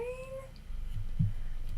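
A cat gives a single drawn-out meow that fades after half a second, followed by soft low rustling and handling noise nearby; no one speaks.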